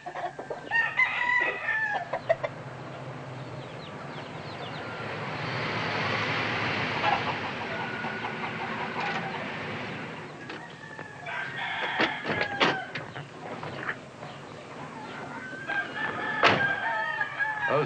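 Chickens cluck and crow in short, loud bursts near the start, middle and end, separated by a low, hollow background hum.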